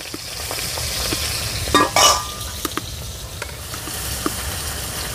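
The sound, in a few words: hilsa fish head frying in oil in a wok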